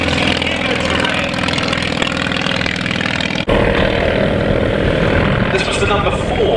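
A 1923 ANEC I vintage light aircraft flies at a Shuttleworth air show, its propeller engine producing a loud, continuous buzzing drone that shifts abruptly in tone partway through as it passes, with commentary talk heard over it.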